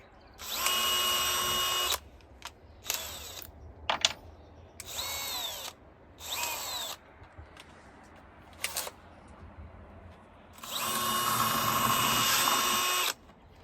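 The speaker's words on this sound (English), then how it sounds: "Back to our small pilot hole drill bit" A power drill bores a small pilot hole in a plastic bucket in several short bursts and two longer runs, close by, with quiet handling noises in the gaps.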